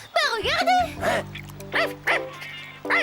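The small cartoon dog from Code Lyoko gives a run of high yips and barks, loud and close, interleaved with spoken voices over a low sustained musical hum.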